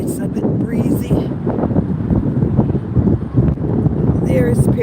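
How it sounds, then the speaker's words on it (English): Breezy wind on the Brooklyn Bridge near the Manhattan side, a loud, steady roar buffeting the microphone throughout. "It's a bit breezy."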